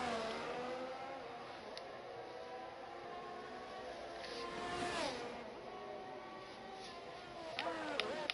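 F1 23 video game cars racing around Monaco, a steady whine of engines rising and falling through gear changes with pitch sweeps as cars pass, moderately loud and continuous, with faint commentary voices underneath.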